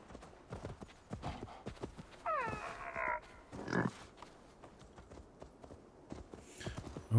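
A horse mount gallops in Assassin's Creed Valhalla, its hooves pounding in a quick, steady rhythm close by. A brief, wavering whinny cuts through the hoofbeats partway through, and a low snort follows.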